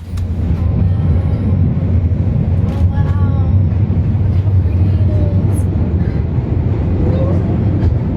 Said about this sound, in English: we're just in the middle of leaving Zermatt's train station